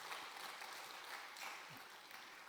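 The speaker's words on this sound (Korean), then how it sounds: "크게 박수로 격려합시다." A church congregation claps together in sustained applause after a women's mission group performs a hymn, the dense patter steady and moderately loud throughout with a faint voice underneath.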